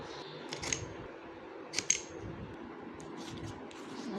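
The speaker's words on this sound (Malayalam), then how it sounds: "അപ്പോൾ നമുക്കിത് ജസ്റ്റ് ഒന്ന് അൺബോക്സ് ചെയ്ത് കൊടുക്കാം" Crisp cutting and rustling from unboxing a newly delivered chess board package, a few sharp snips and crinkles with a quiet background hum and no talking.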